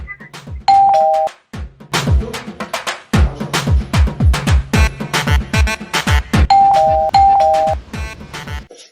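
Loud, insistent rings of an electric doorbell, an early burst and then two quick ones near the end, with a fast series of heavy thuds and beats filling the gaps between them.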